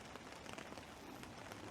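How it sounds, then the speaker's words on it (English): Steady rain patters on surfaces around a hammock campsite, a dense, even hiss with scattered drop taps throughout, close and continuous with no talk. "So the rains have come"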